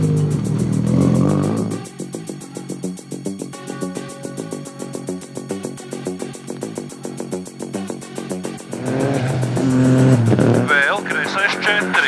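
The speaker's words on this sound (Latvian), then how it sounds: "Tas ir M-Sport rūpnīcā būvēta Rally 3 Ford Fiesta." An M-Sport-built Rally 3 Ford Fiesta rally car drives hard on a minirally stage, its engine buzzing with a rapid, rhythmic rasp and revving between shifts, with a co-driver's voice calling out loudly at the start and end.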